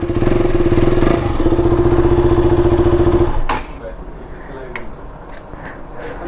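A Bajaj Pulsar NS200 motorcycle idles loudly and steadily after the ignition is switched on, with a deep, even engine hum. The engine then cuts out, leaving only faint clatter and background noise.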